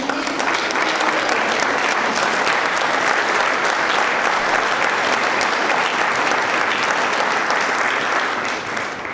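A large crowd at an educator recognition event gives loud, sustained applause, densely packed clapping holding strong for the full stretch before easing slightly at the end.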